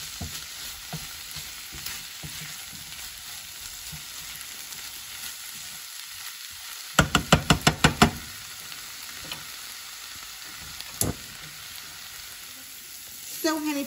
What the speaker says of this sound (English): our black forest ham sauteed with fresh garlic and Brussels sprouts and some oil